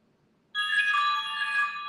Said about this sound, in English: Sorry about the text messages.